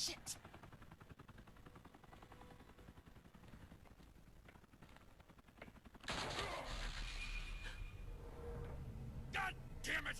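Gunfire from Batman: The Telltale Series erupts as a dense burst of shots that grows louder and harsher partway through, with a sharp volley near the end, layered under shouting voices.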